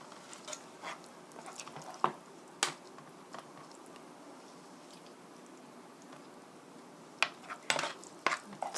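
Fusilli in tomato sauce being dished onto a plate, with sparse clinks of a utensil against the plate and a few louder scraping taps over a quiet background.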